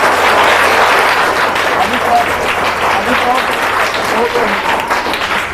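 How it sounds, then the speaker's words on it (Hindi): Loud, sustained applause from a classroom of students at Mother's International Academy, honouring their teacher; dense steady clapping fills the whole stretch with a few voices mixed in. "सर के नाम पे थोड़ा सा जोरदार ताली बजाइए"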